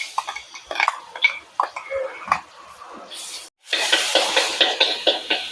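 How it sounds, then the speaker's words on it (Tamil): Ginger garlic paste dropping into hot coconut oil for chicken kottu: first scattered scrapes and light clinks of a spoon, then after a brief gap a loud, steady sizzle and spatter close by. "எண்ணெய் சூடாயிட்டு இதில் இஞ்சி பூண்டு பேஸ்ட் கொஞ்சம் சேர்க்குறேன்"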